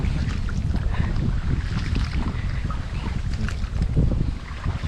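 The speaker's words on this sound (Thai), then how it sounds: "ลมแรงโคตรครับวันนี้" Strong wind gusting outdoors while bass fishing in South Korea, a loud, continuous roar of wind buffeting the microphone for the whole stretch, with no talking.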